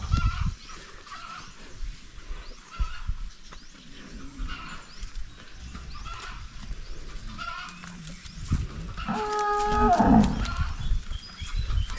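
A cow on a farm lets out a loud, drawn-out moo near the end, after a stretch of quieter background farm noise with rustling and distant animal sounds.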